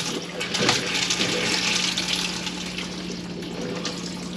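Running water splashes steadily from a motorhome tap while its onboard water pump hums with a constant low drone, air still spluttering through the pipework, close and continuous throughout.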